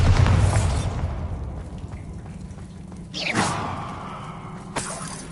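Bombarda spell blast in Hogwarts Legacy, a heavy booming explosion at the start that fades into a rumbling tail, followed by a swooshing burst midway and a sharp pop near the end.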